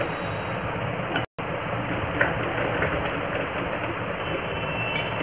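A sewing machine stitches a seam in a baby's capri pant, its steady rapid whirring running close and loud throughout, broken by a brief stop near the start and a light clatter toward the end.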